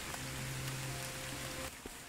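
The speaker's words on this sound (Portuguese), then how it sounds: "Opa, tá chovendo." Soft, steady rain in a video game patters and hisses over a low droning tone, with a few faint clicks and no talking.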